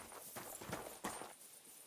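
Quiet clip-clop of a horse's hooves stepping in an uneven rhythm over a soft background hiss, in the video game Kingdom Come: Deliverance 2.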